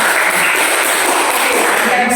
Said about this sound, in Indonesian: Tepuk tangan dulu ya anak-anak.